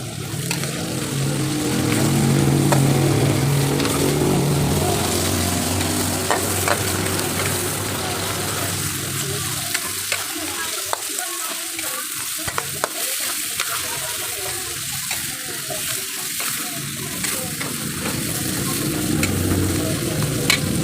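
Ground pork giniling sizzles loudly in a pan for ginisang pechay with a steady frying hiss. Spatula stirs and scrapes come close, louder at the start and easing a little partway through.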